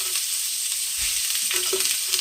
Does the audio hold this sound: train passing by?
no